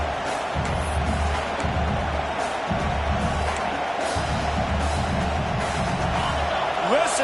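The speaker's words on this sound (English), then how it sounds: "Listen to this crowd just shaking the girders of this place, trying to help their defense." A stadium crowd at an Oregon vs UCLA college football game roars in a dense, sustained wash of noise, with a commentator's voice running over it.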